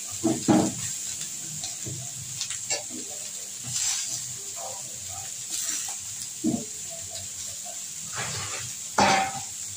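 Eggplant and potato frying in a pan for a fish-egg and pui shaak dish, a steady hiss and sizzle broken by occasional louder stirring scrapes and pops, close and moderate.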